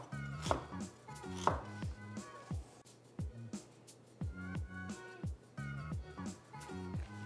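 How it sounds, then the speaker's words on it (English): A knife cuts through peeled ginger against the grain on a board, giving a run of crisp, fairly close chops in uneven bursts, with no one talking. "I've already peeled my ginger and now I'm cutting them against the grain of the strands"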